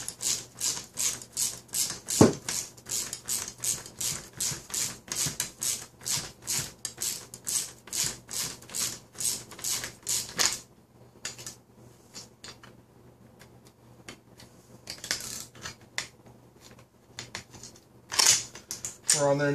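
A ratchet socket wrench tightens a half-inch nut on a model aircraft build, giving rapid, evenly spaced clicks for about ten seconds, followed by quieter, scattered handling noises and a few sharp clicks close by.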